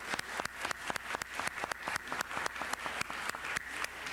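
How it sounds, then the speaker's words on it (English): An audience claps at a Los Angeles city council meeting, dense even applause filling the room at a moderate distance, steady for several seconds with no talking over it. "Let's give them a great round of applause and thank them very much for coming."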